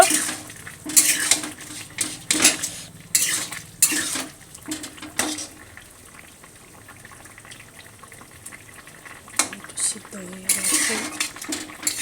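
Potatoes are stirred in a pan that has been kept covered, with loud metallic scrapes and clatters in bursts, then a quieter stretch before more clanking near the end, close by.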